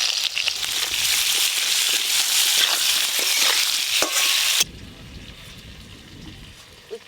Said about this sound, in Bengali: এবার কেটে ধুয়ে রাখা আলু ঝিঙ্গে ভেজে নেব।